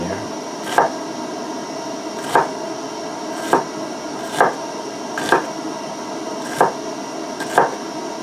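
A cheap, dull kitchen knife chopping onion on a board for pizza in a cabin: seven evenly spaced sharp chops about a second apart over a steady background hiss, with no talking.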